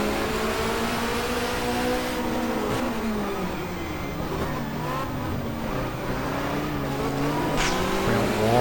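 A touring car in the GTR2 racing game, set in the 1994 Asia-Pacific championship, roars steadily and close, its engine pitch climbing and dropping through gear changes and downshifts into first, with hints of tire squeal.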